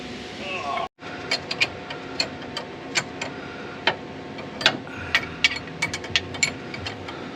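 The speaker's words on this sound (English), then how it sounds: "So I am getting that upper nut put on for the steering column." A ratchet tightens the upper nut on the steering column of a Fox Body Mustang coupe, giving a string of crisp, irregular clicks against a steady low background hum.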